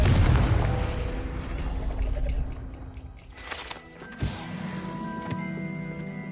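A Confringo blasting spell explosion in Hogwarts Legacy, a heavy low boom at the start fading into a rumbling tail, followed by softer clanks and a sharp impact, game sounds alone without talk.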